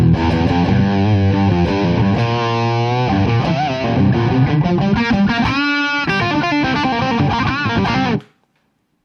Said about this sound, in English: even blend of that overdrive and distortion thing